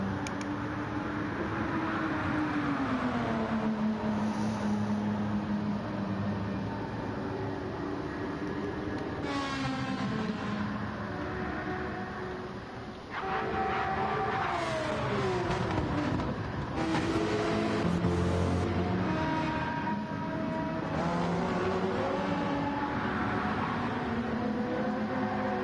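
Race cars in a Le Mans racing video game sweep through the Porsche curves, engines droning steadily with rising and falling pitch as gears shift, several passes blending into a continuous close roar.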